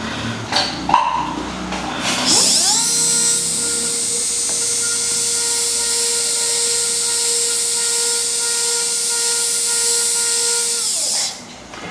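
High-pitched whine of a dental rotary instrument enlarging the distobuccal canal of a maxillary molar, running steadily for about nine seconds after a brief start, close and loud with no talking.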